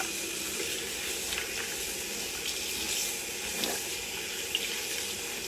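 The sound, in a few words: rinsing a sponge under hot tap water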